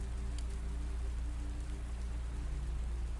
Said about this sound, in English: The rain comes differently at the plantation.